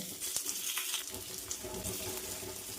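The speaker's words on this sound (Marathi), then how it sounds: "ह्या वड्या शालो फ्राय करून घ्यायच्या" Bajra and mixed leafy-vegetable vadas shallow fry in a little oil on a hot griddle over medium flame, giving a faint, steady close-up sizzle with light crackle and no voices.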